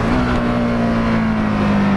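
EBR 1190RX sport motorcycle engine pulling under throttle, a loud steady roaring drone heard up close for a couple of seconds with no talk.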